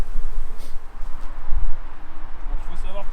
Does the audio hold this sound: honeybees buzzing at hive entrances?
yes